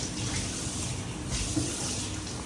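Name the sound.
adding more broth to mustard hilsa fish curry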